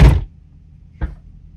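A Holden VF Commodore car door opens with a solid thunk up close, followed a second later by a softer, shorter knock, with quiet in between.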